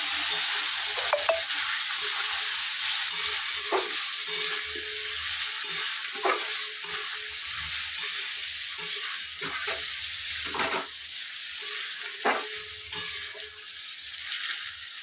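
Pasta is stirred and fried in a hot pan, giving a steady close sizzle broken by intermittent scraping stir strokes, with no talk.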